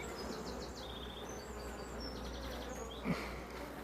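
Honey bees hum around an open hive during an inspection of a strong colony, a soft, continuous buzz with single bees zipping past nearby and a brief knock near the end.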